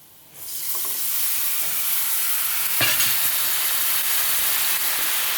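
Eggplant stir fry bursts into loud, steady sizzling as sauce hits the hot pan, with a brief clatter of stirring midway and no talking.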